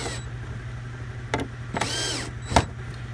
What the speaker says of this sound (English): now you go ahead and tighten your screws down.